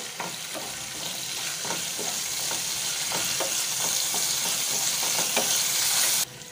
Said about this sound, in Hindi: तीन हरी मिर्च रफली चॉप करी लीव्स हम इसमें डाल देंगे इसे अच्छे से हम सोते कर लेंगे